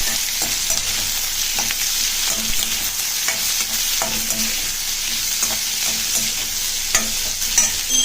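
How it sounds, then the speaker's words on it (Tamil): Onions sauté in oil in a kadai, a loud continuous sizzle with repeated scraping stirs and occasional clinks of the spoon against the metal, heard close with no voices. "இப்போ கடாயில் எண்ணெய் ஊற்றியாச்சு, வெங்காயம் வதக்கலாம் ஃப்ரெண்ட்ஸ்."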